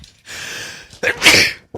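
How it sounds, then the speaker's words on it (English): A single person sneezes loudly and close by, preceded by a brief intake of breath, then a short pause before another faint noise at the end. "You made him sneeze."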